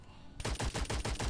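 Ricochet weapon from the game Witchfire firing in a rapid automatic burst, about eight loud punchy shots in steady rhythm after a brief near-silent moment, with no talk.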